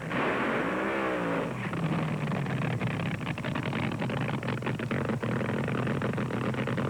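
Top-tier 1971 dragsters with 1,500 horsepower blown engines race down the strip, a loud rising engine roar sweeping upward then giving way to a broad, crackling, noisy blast that continues to the end, with no voices.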